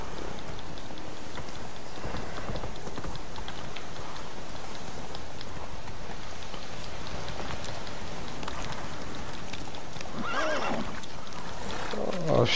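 A horse whinnies and its hooves clop in The Witcher video game, heard over a continuous rain-like ambient wash, with a louder neigh rising near the end.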